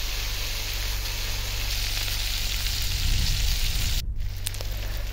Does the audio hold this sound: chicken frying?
yes